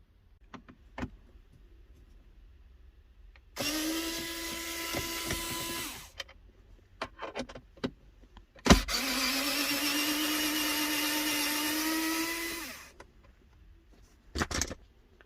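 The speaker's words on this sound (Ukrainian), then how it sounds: "Для того, щоб викрутити, нам треба зірочку Т20 Торкс." A power screwdriver with a Torx T20 bit runs in two steady whirring bursts of a few seconds each, backing bolts out of a Renault Espace 4 centre console. Small clicks and handling noises fall between them, close and quiet.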